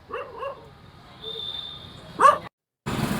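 Four or five dogs nearby give short, high yipping barks: a quick pair at the start, a louder single bark just past two seconds, then the sound cuts off abruptly before steady background noise returns.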